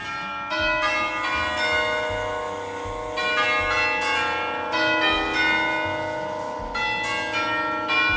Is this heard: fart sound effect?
no